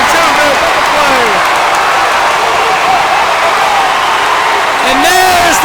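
A high school basketball crowd at the Inman Center cheering loudly and steadily during a Pace versus Westside Macon state playoff game, with whoops rising over a broad wash of noise and a commentator's voice over it.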